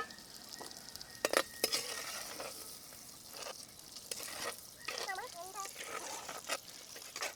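Pieces of raw papaya fry in hot oil with a steady crackling sizzle, broken by a few sharp stirring clatters, while a voice talks intermittently over it.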